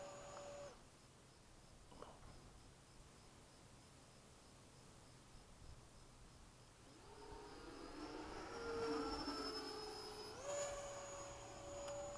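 An FMS 80mm Hawk RC model jet with an electric ducted fan flies at dusk at a flying field, its steady whine rising and shifting in pitch as it passes, fairly distant and without speech.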